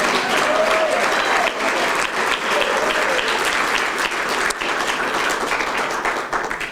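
A live stand-up comedy show audience gives a loud, sustained burst of clapping that fills the room continuously for several seconds.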